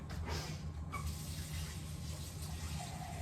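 Water pours steadily from a tap into a measuring cup for vegetable soup, a continuous splashing rush with a low hum underneath, no voices.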